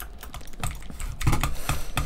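Someone types rapidly on a computer keyboard during a Minecraft gaming session, producing close, uneven bursts of clicking keystrokes for about two seconds with no voices.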